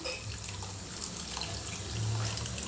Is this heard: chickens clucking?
no